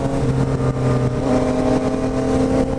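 A Yamaha MT-09 motorcycle hums along at steady speed, its engine tone holding a fairly level pitch with wind rush, loud and close throughout the short run.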